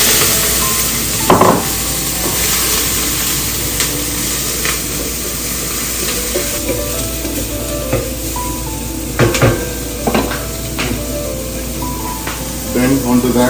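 Prawn shells, chopped garlic and fish pieces sizzling in olive oil in a pot for bouillabaisse, a steady crackling fry with occasional clanks of a utensil against the pot, close and loud.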